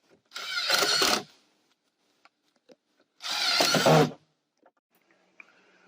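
A power drill drives screws while a mobile home window is replaced, running in two close bursts of about a second each. Small clicks and taps fill the gaps between them.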